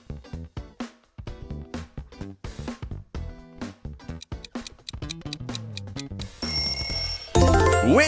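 Windows XP startup chime, a bright shimmering synth swell, rings out loud at the close of a busy run of short bell-like musical stings and ringtone snippets.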